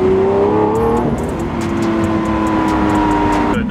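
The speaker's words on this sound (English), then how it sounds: "And now I'm driving an Aventador." A Lamborghini Aventador Spider engine drones loudly from inside the car while driving, with a steady, rich roar whose pitch climbs gently, dips, then holds steady through the whole stretch without any talking.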